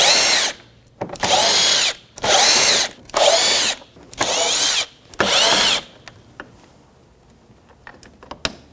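A power driver backs T20 Torx screws out of the top of a 2007-2017 Jeep Patriot 2.4L during AC condenser replacement: six close, loud whirring bursts in a regular rhythm, then small clicks and handling noises.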